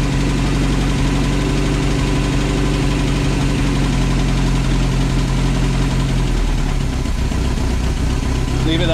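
A 1977 Rover P6 2.2TC engine idles loudly and steadily up close with no cam chain rattle, its low rumble continuous throughout while voices speak over it.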